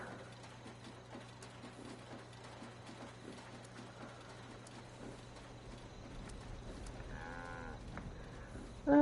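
A cow, a pet named Charlie the Moo in a video game, lets out a single low moo near the end over a faint steady hum and soft background clatter.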